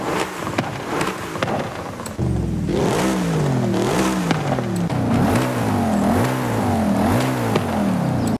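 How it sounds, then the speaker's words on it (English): Audi RS5 in Forza Horizon 5 idling briefly, then its engine and exhaust rev up and down repeatedly in rising and falling sweeps, loud and close. "with this Audi RS5, there is a significant tonal difference between the exhausts if you listen"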